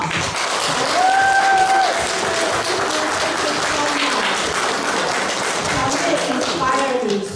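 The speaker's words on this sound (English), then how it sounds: "let's give Xiaoyan a round of applause" An audience at a leadership foundation's annual meeting in Seattle applauds warmly for an honoree, steady crowd clapping throughout with some voices and a brief tonal sound mixed in.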